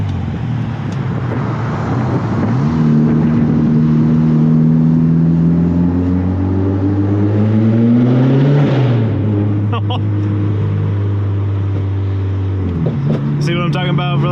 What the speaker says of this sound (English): See what I'm talking about for those backfires?